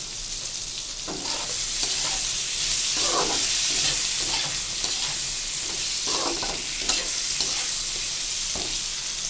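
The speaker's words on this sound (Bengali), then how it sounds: "হালকা নাড়াচাড়া করার পর আমি হলুদ ছেড়ে দিলাম" Pointed gourd frying in oil with turmeric, stirred with a utensil: a steady bright sizzle runs throughout, broken by repeated scraping stir strokes at an uneven rhythm, close and fairly loud with no talking.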